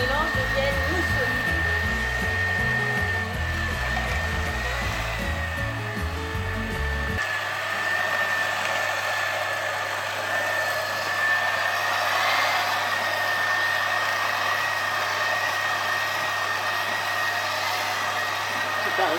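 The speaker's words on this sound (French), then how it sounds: "On va faire ça au batteur électrique et il faut que le mélange devienne mousseux." An electric hand mixer beats eggs and sugar into a foamy batter, a loud steady high whine running throughout, with a low background hum under the first several seconds that then drops away.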